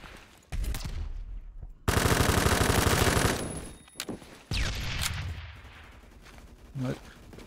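K2 assault rifle fire in the Phantom Forces video game: dense automatic bursts, one long sustained string of rapid shots between shorter bursts, with quieter gaps and faint game sounds in between.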